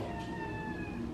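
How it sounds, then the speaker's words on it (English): Hungry house cats meow for food in a morning kitchen, a steady high, wavering cry with overtones held for over a second, close and fairly loud, with no talk over it. "The kitties want food so bad."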